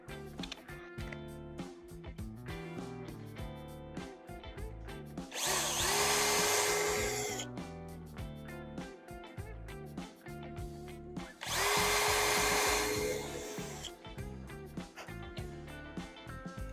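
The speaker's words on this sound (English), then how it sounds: "I'm going to go ahead and drill 2 pilot holes" Two bursts of a power drill whirring loudly for about two seconds each, drilling pilot holes for mounting screws for a Sugatsune HES3D-120 hinge, separated by quieter background music.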